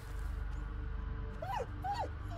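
A dog whimpers twice in the Blair Witch video game, short rising-and-falling whines over a loud low ambient rumble.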